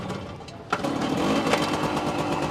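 A Yamaha 100cc motorcycle engine catches after a kick start and settles into a rapid, close, buzzing two-stroke-style idle.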